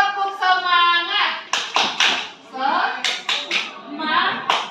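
A high school class in an Indonesian classroom performs a rhythmic spirit clap, with loud, close, patterned bursts of hand claps alternating with children's chanted voices.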